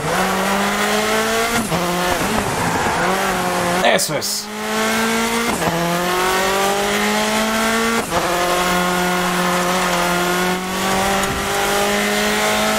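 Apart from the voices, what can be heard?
racing car engine and tyres in a hill-climb racing video game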